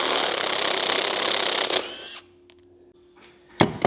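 Bolts being removed with a power tool while stripping down a Renault Twizy, a loud steady mechanical whir for about two seconds, then quiet shuffling and a few sharp clicks and knocks.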